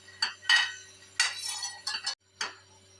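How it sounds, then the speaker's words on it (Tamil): Peanuts are stirred while roasting in a pan over a low flame, giving a few separate dry scraping and clinking strokes, close and quiet, with short pauses between them. "சிம்லேயே வச்சு லோ ஃப்ளேம்லேயே வச்சு கிண்டிகிட்டே இருக்கணும்."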